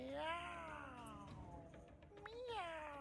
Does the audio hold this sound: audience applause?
no